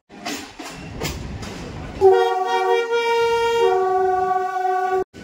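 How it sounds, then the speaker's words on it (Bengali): A local train on the Howrah to Nabadwip line sounds its horn loud and close, a sustained multi-tone blast held for about three seconds after a stretch of rumbling running noise, then cutting off abruptly. "খুব সুন্দর একটা ফাঁকায় ফাঁকায় ট্রেন জার্নি তোমাদেরকে দেখাবো।"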